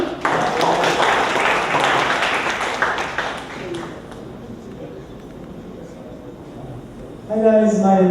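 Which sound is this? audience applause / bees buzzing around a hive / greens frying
audience applause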